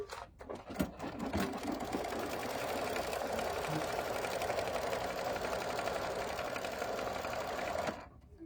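An embroidery machine stitching a placement line on mushroom-print fabric for a quilt block, a steady close whirring stitch rhythm running continuously for several seconds before stopping.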